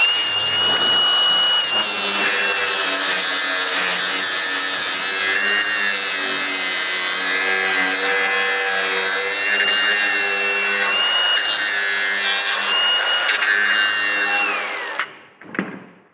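A grinder shapes a tonneau cover for a GMC Roadster build, a steady loud high-pitched whine with a wavering tone held for about fifteen seconds before spinning down to silence.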